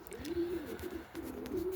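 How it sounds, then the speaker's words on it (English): Young pigeons let out onto a veranda coo in soft, low, rolling phrases, two drawn-out calls nearby with faint rustling and ambient noise beneath. "Just let the birds out,"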